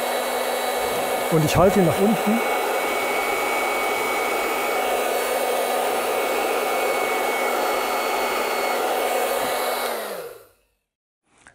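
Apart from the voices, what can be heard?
hair dryer switched on and held pointing down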